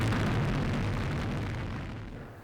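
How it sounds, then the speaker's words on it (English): An Atlas rocket launching the Cygnus spacecraft toward the International Space Station roars as a loud, continuous broadband rumble that slowly fades. "On the shoulders of Atlas, the SS Deke Slayton II orbital ATK Cygnus spacecraft soars toward the International Space Station"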